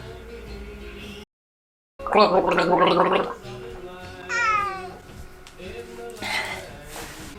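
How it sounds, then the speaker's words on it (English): A person gargles in a short, bubbling, throaty burst lasting about a second, followed by casual speaking. "Do you not like my gargling?"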